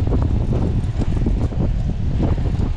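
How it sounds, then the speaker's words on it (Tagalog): Strong wind roars and buffets against the microphone on a road trip through Sariaya, a constant, loud low rumble with no voices. "Ganun pa rin, lakas ng hangin."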